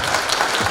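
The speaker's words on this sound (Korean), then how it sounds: "박수로 다시 한번 모시겠습니다." Audience applause at a Rotary club case-presentation event, a dense steady clatter of clapping filling the room with no talk.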